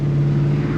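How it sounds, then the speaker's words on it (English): A 1970 Chevelle SS engine idles with a deep, steady exhaust drone, loud and close, in a short continuous burst heard from inside the car. "All I hear is beautiful exhaust note."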